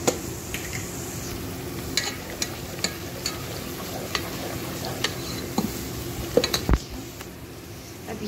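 Spices being stirred into a pan of cooking food, a soft sizzle with scraping spoon strokes and a few sharper clinks against the pan, close and steady with no talk.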